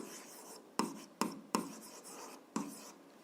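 Pen or marker strokes writing out a seventh-grade algebra solution, four sharp taps and scrapes spaced unevenly over quiet room tone, with no talk.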